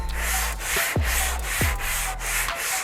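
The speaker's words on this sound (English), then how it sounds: "I'm using the 180 grit all by hand again" Sandpaper of 180 grit rubs by hand over epoxy on a car body panel, making rhythmic back-and-forth scratchy strokes, close and steady, with no talk.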